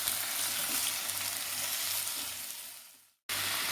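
Quartered tomatoes sauté in a pan with a dense, steady sizzle that holds loud and even, dips briefly to silence, then returns at full strength.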